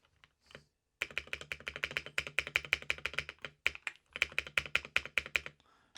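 Close typing on a modded £22 AliExpress mechanical keyboard, quick clacky keystrokes in steady bursts with a hollow ring, a brief pause midway, with no talking.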